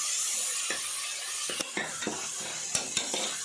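Tomatoes fry in a pan with a soft, steady sizzle, broken by several sharp clinks and scrapes of a spoon stirring against the metal, close up with no one speaking.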